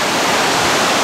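Atlantic sea water surges against the coast at Boca Congreso on Tenerife in the Canary Islands, a loud, unbroken rushing hiss of surf heard up close.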